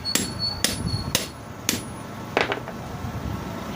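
A hammer strikes a bearing being driven onto a water pump motor rotor: about six sharp metallic blows at an uneven pace, close and clear, over a faint background hum.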